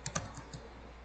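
A few quick keystrokes on a computer keyboard as a web address is entered, soft close clicks over a steady background hum, lasting only about a second.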